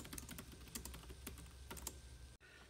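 Steady clicking of an Acer Chromebook 11 C740 laptop keyboard being typed on, a fast irregular patter of light taps heard close up, ending in a brief cutoff.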